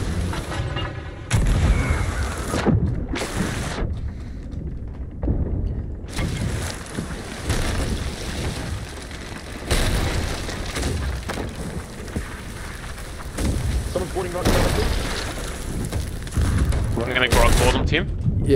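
Ship cannons boom in broadside volleys during a pirate galleon battle in a video game, heavy blasts repeating over rushing water and wind, with players talking over the action.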